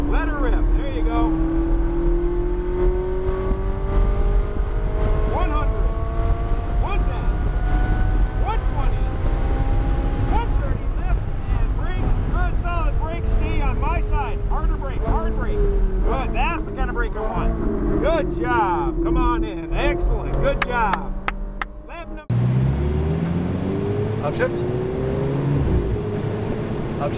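A supercar accelerates hard on a banked race track, engine pitch climbing through the gears in rising sweeps with shifts between them, loud and close from inside the cabin, while someone speaks over the roar.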